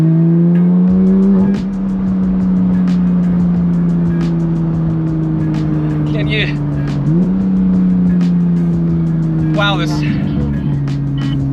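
Engine drone from a 2017 Porsche GT3 RS under way, heard from inside as a steady loud hum that steps up in pitch through gear changes, with a few brief higher bursts over it.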